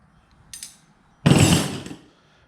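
Metal sockets and cheap wrenches clinking in a tool pouch carried on a RZR, a brief light jingle followed by a louder rattling clatter lasting under a second, close up.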